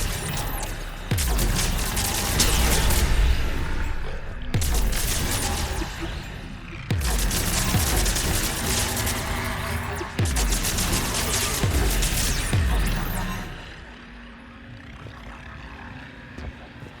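Gunfire from a purchased weapon in Mass Effect 3, with four loud, broad bursts of shots spaced roughly three seconds apart over a dense roaring game background that fades near the end.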